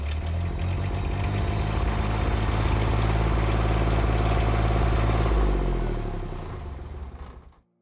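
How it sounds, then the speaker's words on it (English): A Cimline M Series machine's mid-pitched engine, started with a key, runs steadily at a rough idle for several seconds, then its rumble fades away as it shuts down. "the engine can now be started by turning the key to position 2 momentarily"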